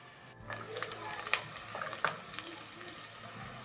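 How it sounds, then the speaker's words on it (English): Onions frying in cooking oil make a soft, continuous sizzle, broken by a few sharper scrapes and knocks as they are stirred in the pot. "Stir the onions in the cooking oil and cook until golden brown."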